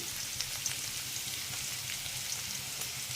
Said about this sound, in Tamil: எல்லாம் நல்லா வதங்கிற டைமில்